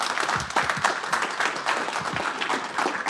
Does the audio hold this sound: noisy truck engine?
no